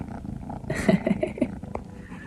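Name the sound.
cats purring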